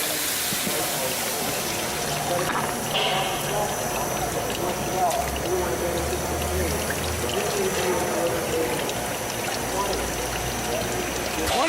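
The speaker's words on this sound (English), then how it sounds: "We're still getting plenty of water out." Water pours steadily in a continuous rushing stream, with faint voices in the background.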